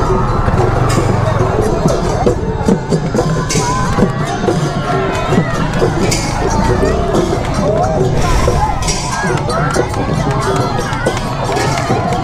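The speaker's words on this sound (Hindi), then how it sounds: "यहीं पर भी हमको भीड़ मिल गई है" Dense crowd noise at a Bohag Bihu procession in Gogamukh, a steady roar of many voices with shouts and cheers, close and continuous throughout.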